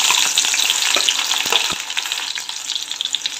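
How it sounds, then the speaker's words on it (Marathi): Onions sizzle and crackle loudly in hot oil, a dense frying hiss with scattered pops and a few stirring clicks, no voices. "तेल गरम झालेलं आहे, कांदा टाकून घेऊ।"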